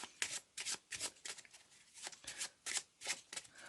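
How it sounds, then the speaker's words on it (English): Playing cards are shuffled close by in soft, irregular riffles and flicks, quiet but distinct, with no talking. "I'll let you shuffle your half of the packet up."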